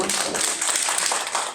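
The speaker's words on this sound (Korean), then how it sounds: "힘찬 박수로 맞이해 주십시오" Brief burst of audience applause at a healing talk concert welcoming a psychological counselor, dense clapping, fairly close and steady for a moment.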